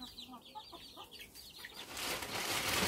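Young 21-week-old Brahma hens make soft, high peeping baby noises in a coop, a run of small chirps that gives way to a louder wash of rustling and background noise.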